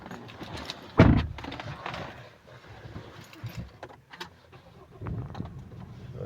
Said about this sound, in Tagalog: So paandarin natin ang susi.